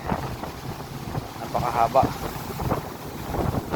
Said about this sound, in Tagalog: medyo mahangin, lakas ng hangin